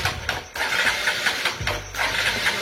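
A motorcycle engine catches and runs after being started through a hidden switch at a village mechanic's, a steady mid-pitched idle with a brief dip and restart of revs, close and loud with no talk.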